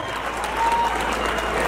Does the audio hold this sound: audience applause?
yes